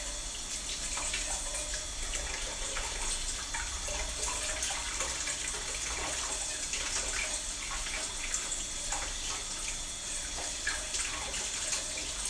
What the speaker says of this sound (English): Put hot water in the sink